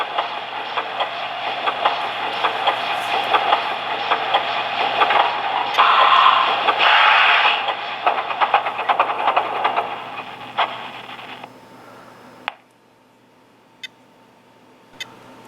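A Lionel CP Rail model train crane car gives off steady sound effects of rumbling rail noise and clatter for about twelve seconds, then cuts off, leaving a few faint clicks. The sound stands alone with no talk.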